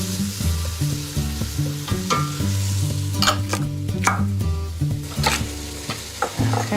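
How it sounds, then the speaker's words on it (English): Potatoes and onions frying in a pan for minestrone soup, a steady close sizzle with repeated scraping and clinking as they are stirred, no talking. "I'll add the potatoes on that side and let them kind of caramelize a little bit."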